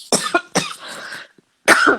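A woman coughs in several sharp, loud bursts close to the microphone, with a short quiet gap before a final harsh cough.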